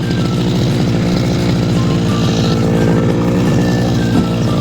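A grass cutter engine warming up in a rice field drones loudly and steadily nearby, an unbroken buzzing motor tone with no pauses.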